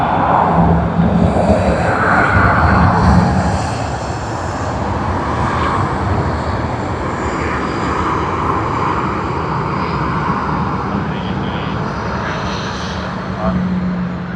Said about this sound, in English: we will end the stream after we capture Hong Kong Airlines departure.